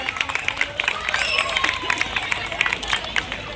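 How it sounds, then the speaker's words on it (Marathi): Audience at a Home Minister game show event in Nashik clapping, a lively burst of rhythmic applause with crowd murmur and voices mixed in, fairly loud and close. "एकदा जोरदार टाळ्या वाजूयात"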